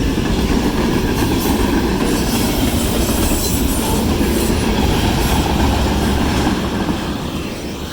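A westbound freight train led by a locomotive passes close by in Gilbert, Arizona, a loud steady rumble with wheel clatter and faint squealing that holds throughout, with no voices.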